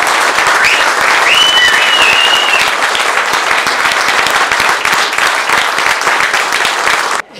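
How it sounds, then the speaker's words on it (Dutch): An audience at a book presentation in Breda gives sustained, dense applause, many hands clapping loudly and evenly, before it cuts off abruptly at the end. "daarom wil ik graag een speciaal applaus voor mijn ouders"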